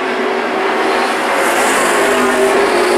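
Granite State Pro Stock race cars roar around the New London Waterford Speedbowl, a loud, sustained engine drone with rising pitch as the pack passes close by.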